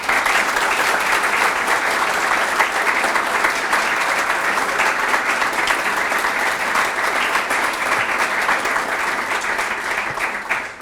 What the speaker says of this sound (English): Please join me in giving a round of applause as we recognize and honor our remarkable Mentor of the